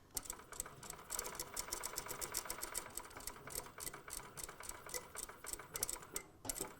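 A sewing machine understitches a pant pocket with a fast, steady mechanical ticking rhythm, close but quiet, running continuously with brief changes in pace near the end.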